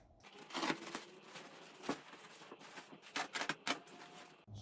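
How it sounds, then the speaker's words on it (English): Insulation bag being cut open in a shop under construction, a series of crinkly plastic rustles and sharp snips in irregular bursts, close and fairly quiet with no talking. "Let's cut open the bag."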